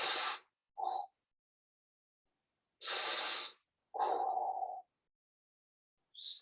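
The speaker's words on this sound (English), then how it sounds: "Two more breaths." Slow, deep relaxation breathing sits close and clear, with airy inhales and exhales in separate hissing puffs spaced by long stretches of silence.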